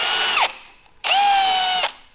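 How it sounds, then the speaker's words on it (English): A power drill bores into a stripped screw head on a Jeep, two loud high whining bursts with a short pause between, the second longer and steadier before cutting off. "what I am attempting to do is drill the head of the screw off because it's so stripped"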